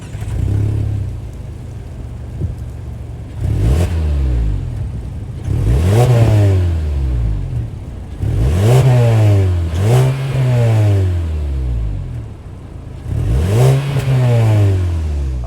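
The 2.5-liter four-cylinder engine of a 2024 Mazda 3 hatchback with dual exhaust tips starts and is revved several times, each loud rev rising and falling back to a low idle between bursts, with no talking.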